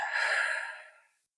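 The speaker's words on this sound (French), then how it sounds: "Inspire par le nez et expire doucement par la bouche." A single slow exhale through the mouth during a gentle yoga breathing exercise, a soft, close airy breath that fades away over about a second into silence.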